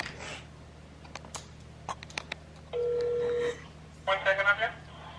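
A telephone call being placed to Wendy's: keypad dialing beeps, a steady tone, then a burst of ringback or line tones, with faint background speech between.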